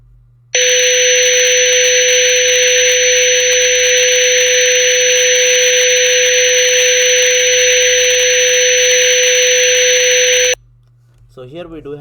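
A steady test tone runs for about ten seconds, buried in a dense band of broadband hiss, loud and unbroken, then stops abruptly; a voice starts speaking just after it ends.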